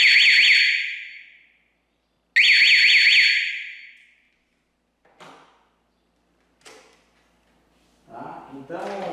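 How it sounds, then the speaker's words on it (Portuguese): The internal alarm and siren of a CB-200 BE1 temperature and relative humidity controller sound as two loud, warbling electronic bursts of about two seconds each, followed by faint clicks and a voice near the end. "o alarme agora vai tocar tanto o alarme interno quanto a sirene também"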